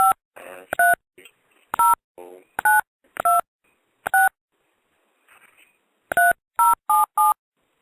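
Telephone keypad dialing, a run of short DTMF touch-tone beeps in irregular bursts, loud and close, with faint muffled talk in the gaps between tones.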